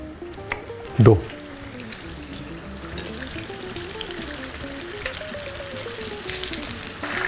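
Eggplant halves for Hyderabadi baghara baingan fry in oil with a steady sizzle, a brief louder splash or clatter near the start, and a voice talking over it.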